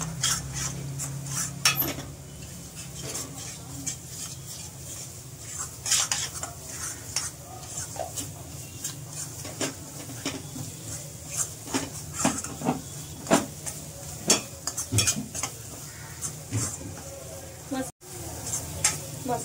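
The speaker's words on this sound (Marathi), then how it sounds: "मसाला आपल्याला थोडं जास्त भाजायचा आहे" Masala is stirred and roasted in oil in a pan over low to medium heat, with repeated scraping and clinking of a spoon against the pan over a soft sizzle, and a voice speaks at times.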